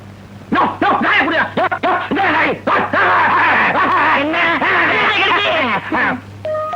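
A dog barks and yelps continuously and excitedly at close range in a comedy film scene, a dense, loud run of rapid barks lasting several seconds.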